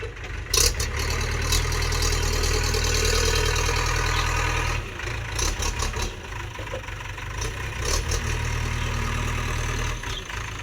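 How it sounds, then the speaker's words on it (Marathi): A steady tractor engine idles close by, a low continuous rumble with a brief dip partway through, and no voices. "सोमा ट्रॅक्टर लावण्यासाठी जागा करतो"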